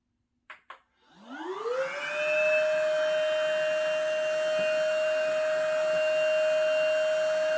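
An electric air pump starts up with a couple of beeps and spins up with a rising whine. It settles into a steady, loud, droning hum as it inflates an Aquamarina AirCat AC335 inflatable boat.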